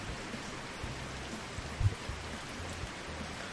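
Rain in the farming simulation game Farm Manager 2021 makes a steady, even hiss with a faint patter throughout and a brief soft thump midway, with no voices.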